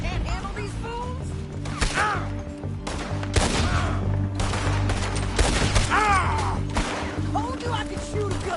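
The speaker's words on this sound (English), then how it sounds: "Told you I could shoot a gun, didn't I?" Repeated gunshots ring out in Red Dead Redemption 2, loud sharp cracks scattered through a chaotic fight with clattering impacts, while a voice speaks between the shots.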